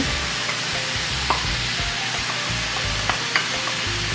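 Onions hitting a hot pan of meat sauce for lasagna, a steady loud sizzle and crackle with occasional scrapes and taps of a utensil as it is stirred.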